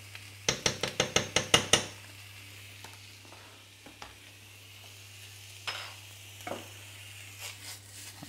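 Turkey mince in coconut oil in a pan, beginning with a quick run of sharp metallic taps, then soft sizzling with occasional scrapes and clinks of stirring.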